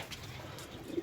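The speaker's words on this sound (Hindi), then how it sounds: "कबूतरों के आप देखें ज़रा" Pigeons of the Lal Pari breed coo softly in a short, faint burst, a low murmuring swell that rises toward the end, with no talk over it.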